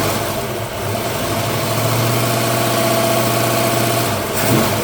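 A freshly rebuilt Ford 302 V8 runs steadily up close, a loud, even idle with a deep throbbing rumble and mechanical vibration that holds for several seconds without a break.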